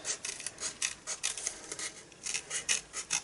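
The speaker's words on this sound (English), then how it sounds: "keep my scissors at a 45-degree angle, and then just follow the line round, moving the paper" Scissors fussy-cut paper for a handmade birthday card, giving a close, quiet series of crisp snipping and rasping strokes in a quick, uneven rhythm, about a dozen cuts with no talking.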